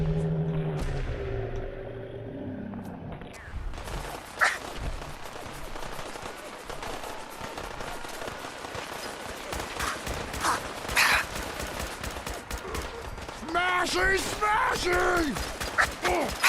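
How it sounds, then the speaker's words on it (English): A Gatling gun fires in Fallout 4 on the hardest difficulty, heard as long stretches of rapid, dense gunfire with sharp cracks and impacts, building from a quieter opening into sustained bursts, with brief voice-like game sounds near the end. "Somebody's got a Gatling gun."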